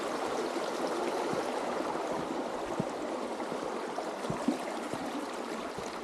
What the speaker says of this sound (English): It just rained the last couple of days, so the water's flowing